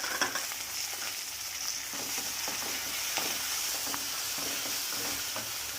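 Ginger garlic paste sizzles and fries steadily in a pan while being stirred, a continuous close crackle with scraping strokes throughout and no talking.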